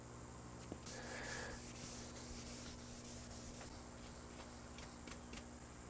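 Guitar body being sanded by hand with 1000 grit acrylic sandpaper, a soft, close rubbing hiss with repeated strokes, quiet and alone without talk.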